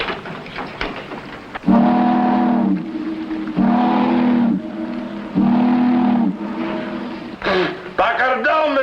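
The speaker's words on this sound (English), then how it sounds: "I'm going to get 3 loud blasts on the whistle." Riverboat steam whistle giving three long, loud blasts, each steady and sustained with short gaps between, followed by a voice.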